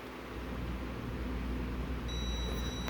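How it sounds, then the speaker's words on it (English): A steady electronic beep from a Pureguardian aromatherapy ultrasonic diffuser's clock starts partway through and holds as one long tone over a constant low hum. "so you hear that long beep"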